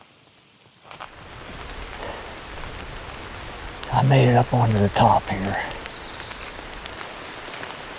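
Steady outdoor rain falls on a turkey hunt, a constant hiss of drops on surfaces throughout, while someone speaks briefly over it in the middle.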